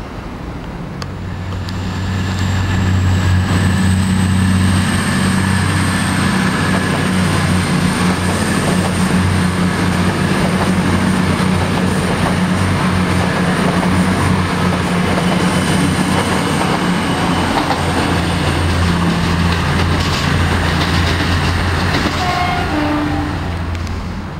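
A train rolls past heading for Stamford, Peterborough and Stansted Airport, a loud sustained rumble with deep low hum, grinding wheels and a faint high whine, building after a quiet start and holding steady with no voices.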